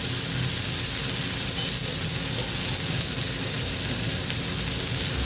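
Garlic-and-salt vegetable mixture spread across a hot oiled griddle with asafoetida, giving a steady, loud, close sizzle of frying that runs unbroken throughout with no talk.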